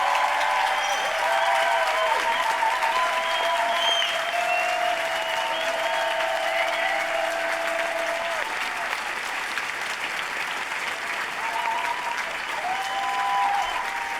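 Sustained crowd applause fills a political rally against war and the far right, a dense, steady wash of clapping from a large audience that holds at an even level throughout, with faint voices now and then beneath it.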